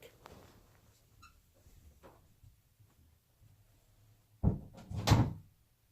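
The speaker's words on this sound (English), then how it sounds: "let me shut this door the rest of the way in case it's disturbing my mom" A bedroom door being shut near the end, two close, sharp knocks and a thud of the door closing, after a long stretch of quiet room sound with faint soft movements.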